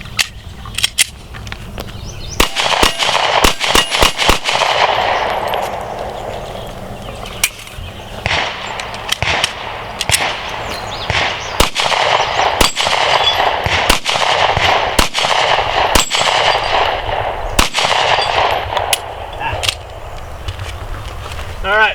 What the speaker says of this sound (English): So without further ado, Glock 43. We'll start out with the finger extension mag.